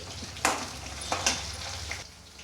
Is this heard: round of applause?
no